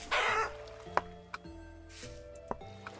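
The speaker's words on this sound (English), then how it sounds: "Not that they're chicken, but they're chickens." Chickens in the video game Vintage Story make soft, sparse clucks and short clicks over a low tonal game music bed, with a brief burst of noise at the start and no voices.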